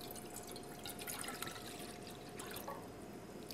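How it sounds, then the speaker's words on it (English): A cup of water poured into a saucepan in a home kitchen, heard as a quiet, faint trickle and splash with light drips, no voices over it. "put a cup of water into my saucepan"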